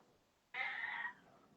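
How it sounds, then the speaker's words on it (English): A pet cat gives a single drawn-out meow, fairly faint and close, rising out of a quiet room and fading after about half a second. "you gotta stop meowing when I'm doing a live, huh?"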